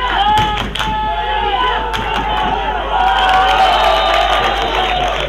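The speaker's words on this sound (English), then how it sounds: "Serbia fans are cheering their team, supporting the defense to make more pressure on the Italian opponent's offense" Serbian supporters cheer and shout for their team at a European junior championship American football game against Italy, a loud stadium crowd with whistles and chanting under a commentator's voice.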